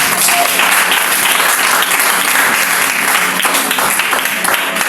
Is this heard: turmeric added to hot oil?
no